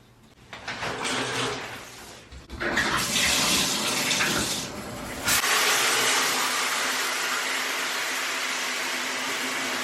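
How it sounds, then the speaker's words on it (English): Shower water running steadily in a home bathroom, a continuous close hiss with no talking that swells louder partway through and then holds even. "So I'm about to hop in the shower"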